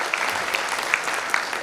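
Students at a campus event clap together in a sustained, even burst of applause, with a few sharper claps standing out from the crowd.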